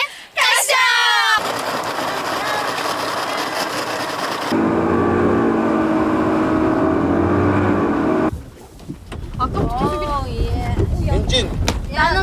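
A motorboat engine drones steadily while the boat trolls for fish off Tinian island, loud and close, and several people talk and exclaim over it.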